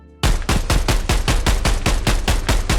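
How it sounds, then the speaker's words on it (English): Rapid automatic gunfire hits an armored player in Contractors ExfilZone, a loud, close, evenly spaced string of about a dozen shots that starts abruptly and keeps a steady rhythm. "You can shoot this armor a ton of times before it actually kills them"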